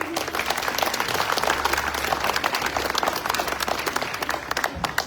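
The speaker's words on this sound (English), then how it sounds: "give them a round of applause" Loud, dense applause from a church crowd at a Celebration Sunday presentation, a continuous roar of many hands clapping close and full, with a low hum underneath, fading slightly at the very end.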